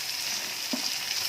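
Red and yellow bell peppers, capsicum and green chillies frying with prawns in a pan, a steady soft sizzle throughout with one brief stir or clink partway, quiet and close.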